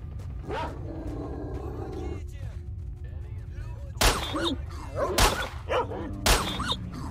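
A wounded dog whimpers and yelps in the video game S.T.A.L.K.E.R.: Shadow of Chernobyl after running into radiation, with high squeals among loud gunshot bursts over a low ambient rumble.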